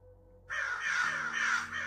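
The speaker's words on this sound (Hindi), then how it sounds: "काव मत कर कौवे।" A crow caws in the horror video game Choo Choo Charles, a single harsh, drawn-out call that starts abruptly and rings fairly close and clear against a quiet background.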